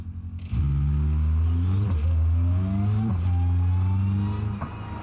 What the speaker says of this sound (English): listen to that reverse gear. It's so loud right now.